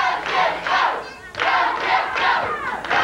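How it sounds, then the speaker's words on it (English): A wrestling arena crowd at a USWA Wrestling show roars and yells for the Missouri Tiger, loud and sustained in swelling waves with a brief dip midway. "Fans cheering on the Missouri Tiger."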